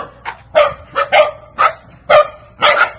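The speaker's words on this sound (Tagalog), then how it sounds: "Bakit kayo tahol-tahol?" Dogs on a farm barking in a quick series of about six sharp, close barks with short gaps between them, loud and clear against a quiet background.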